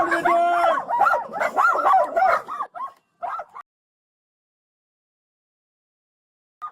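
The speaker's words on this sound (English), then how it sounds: "dozens of dogs begin barking, running wild through a cluttered house" Many dogs bark and howl in a hoarder house, loud and overlapping for a couple of seconds, then a few scattered yelps before falling silent, with one faint bark at the very end.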